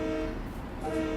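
A Long Island Rail Road train in the Train Sim World video game, heard as a steady rumbling drone with a sustained horn-like tone, close and continuous.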